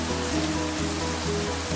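Heavy rain falls in a steady broadband rush, a constant wash of water noise with a low rhythmic hum underneath, no voices.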